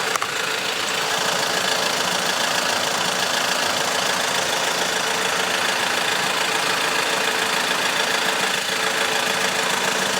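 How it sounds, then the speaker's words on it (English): An Audi engine idles steadily with a continuous, moderately loud mechanical hum and faint knocking texture, running throughout while its 0AW CVT automatic transmission oil is being checked and changed. "That's why it's very important to keep the engine running."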